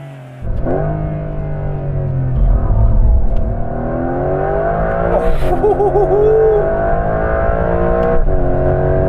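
A new Porsche 911 engine revs hard toward its 7,500 rpm redline, a loud, continuous rising wail from inside the car that climbs, holds and shifts pitch over several seconds with no talking.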